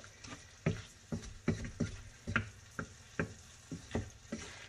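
Vegetables fry in a pan over reduced heat with a soft steady sizzle, while a spatula scrapes and stirs in a regular rhythm of about a dozen sharp strokes.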